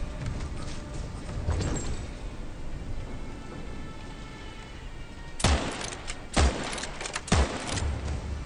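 Rifle fire in Witchfire, three heavy, sharp shots spaced about a second apart after a stretch of low ambient rumble and a faint earlier report.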